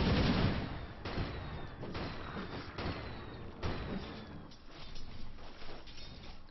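Rapid flak fire in a video game battle against Spylings, a muffled, clanking barrage of repeated bursts at moderate level, mechanical and steady with periodic heavier thumps.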